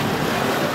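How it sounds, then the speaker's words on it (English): Steady broadband engine and water rush of a nearby motorboat, constant and loud throughout with no pauses. "there's a boat happening again"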